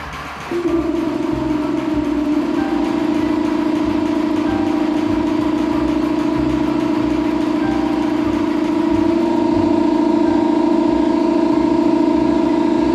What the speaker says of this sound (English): What we're looking for is that steady pumping noise.